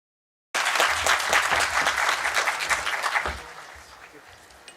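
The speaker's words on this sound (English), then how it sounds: "you sincerely deserve a big thank you and big round of applause." Audience applause at an inauguration event starts abruptly after brief silence, loud and dense for about three seconds, then thins and tapers off into scattered claps.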